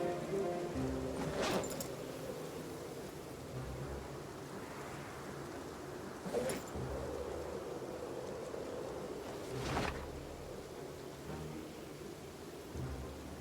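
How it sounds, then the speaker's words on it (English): Rain falls steadily in Project Zomboid, a continuous broadband hiss with a few louder swells or distant rumbles, with no talking over it. "Sitting in the rain."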